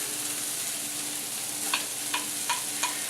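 Chopped red pepper sautéing in a pan, giving a steady close sizzle and frying hiss with a few short stirring scrapes near the end.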